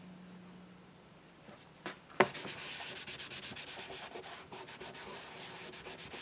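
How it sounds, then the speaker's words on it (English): Soft towel rubbed firmly over glued paper images in a gluebook, a close, steady scrubbing with rhythmic back-and-forth strokes after a brief sharp tap. "I like rubbing my images down with a soft towel just to make sure they're down good"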